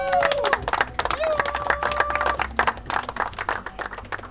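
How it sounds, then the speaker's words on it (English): A team claps together in a dense burst of applause after a long event day, with voices mixed in and a few whistle-like tones. The clapping is loud and close and thins out toward the end. "Round of applause."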